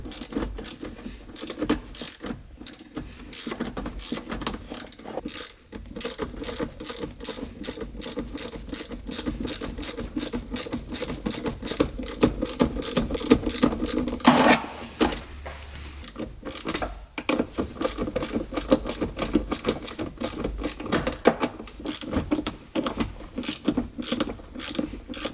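Ratchet wrench tightening battery cables on the solenoid of a UTV, a fast rhythmic clicking that runs in long steady strokes with brief pauses, close and loud with no talk.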